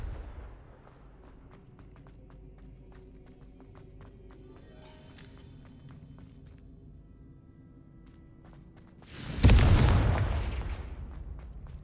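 A Confringo fire spell in Hogwarts Legacy, a loud booming blast with a rumbling tail that rises suddenly out of a quiet stretch of soft game ambience scattered with faint clicks.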